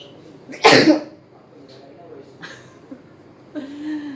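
Sneezes come up from customers seated downstairs in a home with a business below: one sharp, fairly loud sneeze followed by fainter sneezes and coughs in a quiet room.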